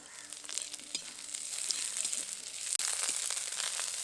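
Chopped onion goes into oil with frying garlic and ginger, making a soft, continuous sizzle with light stirring and crackle and no voices.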